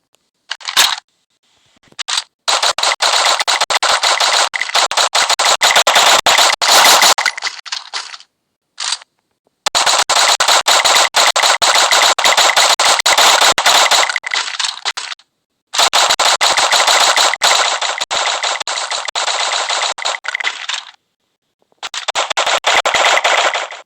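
Rapid bursts of SM8 gunfire from the mobile shooter Free Fire, loud and close, firing in several long sustained volleys separated by short pauses, with a couple of brief single shots, no talking.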